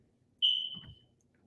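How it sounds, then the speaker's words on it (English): A single high, piercing electronic chirp from a home smoke alarm, loud and clear for about half a second, then fading out in a quiet room. "Is it your smoke alarm?"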